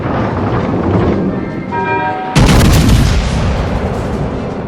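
Warship artillery firing in the naval combat game World of Warships Legends, a sudden loud broadband boom that cuts in partway through and rolls on over dense battle noise.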